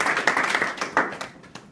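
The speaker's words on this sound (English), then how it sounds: "Give me a round of applause" Brief audience applause during a competition speech, a short burst of clapping that thins out into a few scattered claps as it fades.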